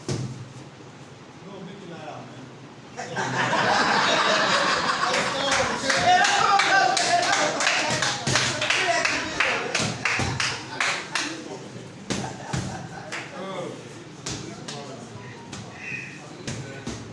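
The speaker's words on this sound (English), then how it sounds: "Please let's give them a round of applause, please, a round of applause." Audience applause at a former boxing champion's donation of boxing equipment to Edo State sports, a broad clapping wash that swells after a quiet start and continues at moderate loudness mixed with voices talking.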